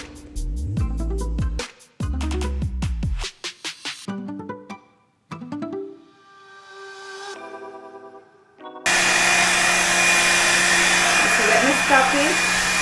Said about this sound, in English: I got used to the sound of the hair dryer